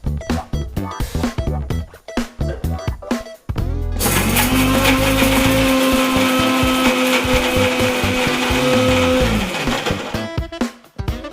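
After some clattering and tapping, a mixer grinder whirs loudly and steadily for several seconds grinding coconut chutney with water in the jar, then winds down into more knocking sounds.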